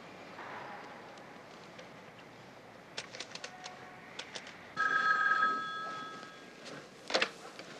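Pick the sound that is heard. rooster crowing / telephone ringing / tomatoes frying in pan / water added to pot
telephone ringing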